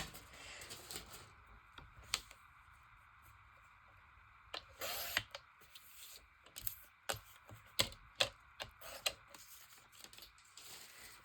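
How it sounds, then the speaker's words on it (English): Scissors cut through harvested paper pages for a small glue-book craft in a quiet room. A few sparse snips come first, then a quick run of crisp, close cuts near the end. "I'll just cut it pretty straight, and if I want to fussy cut it, I will."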